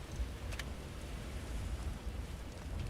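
A steady storm in the video game God of War Ragnarok, with a dense hiss of rain and a low rumbling wind or thunder bed, continuous and fairly quiet, with a brief brighter patter near the start.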